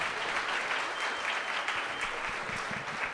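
An audience claps and cheers in a steady, dense burst of applause that holds throughout.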